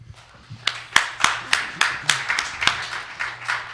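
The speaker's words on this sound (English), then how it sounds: "I think that got a lot of applause." Applause from a debate audience at a libertarian presidential candidates' forum, a dense crowd of claps rising and fading in repeated swells, fairly close and loud, with no talk over it.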